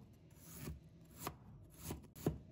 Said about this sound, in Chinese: 准备1块生姜， 把它切成片